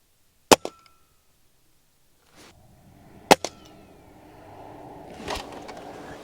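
A Ruger Impact Max .22 pellet gun fires two sharp, loud cracks about three seconds apart, each followed by a brief echo, with faint rustling and movement afterward.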